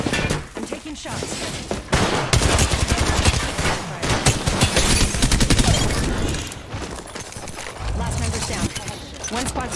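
Rapid bursts of weapon fire in an Apex Legends match: dense, loud volleys and automatic rattles that run nearly nonstop, with brief gaps between strings of shots.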